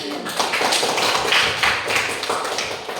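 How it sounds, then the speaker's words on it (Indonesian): A classroom group claps together for a few seconds, the applause fairly close and steady with uneven bursts, no talk over it. "tepuk tangan dulu untuk semua audio"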